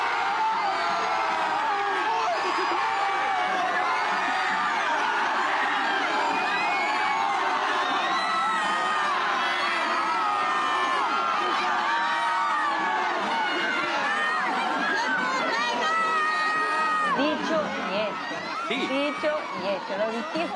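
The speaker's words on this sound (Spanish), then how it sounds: "el que va a reventar en aplausos va a ser Neymar" Crowd of fans, many of them children, cheering and shouting continuously for the arriving Brazil national team star at their training base in San Isidro, a dense, sustained roar with whoops, loud and close throughout.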